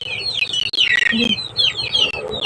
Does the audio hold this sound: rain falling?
no